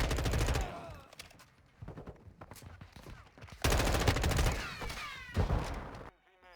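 Heavy automatic gunfire in Modern Warfare 2 Ground War multiplayer, with loud sustained bursts broken by short gaps and quieter stretches of scattered shots and movement.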